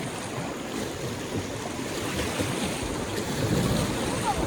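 Small boat moving on water during a nature outing in Gayo, Central Aceh, with a steady wash of water and wind noise throughout, slightly louder near the end; no clear individual paddle strokes stand out.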